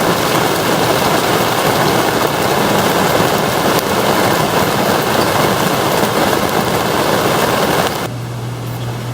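Steady, dense rain roars without pause for several seconds, a heavy wash of noise that drops off abruptly near the end.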